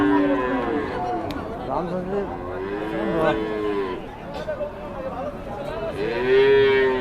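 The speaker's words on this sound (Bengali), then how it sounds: "অস্ট্রেলিয়ান গরুগুলো মোটামুটি এই হাটে পাওয়া যায়" Australian cows at a busy village cattle market in Mirzapur, Tangail, give several drawn-out moos close by, one after another, over crowd chatter and nearby talking.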